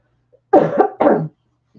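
Two hoarse, loud coughs in close succession, each harsh and raspy, with silence around them.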